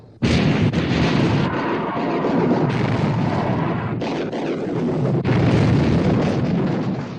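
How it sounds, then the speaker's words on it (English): Battleship turret guns fire in a heavy, sustained barrage of booming blasts, loud and close, one roar running into the next at sea in a 1960 naval war film. "All turrets ready to open fire, sir. Open fire! Fire! Fire!"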